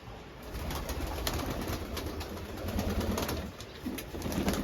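Pigeons coo softly amid a steady, dense background hiss, their low rolling calls faint and intermittent rather than prominent.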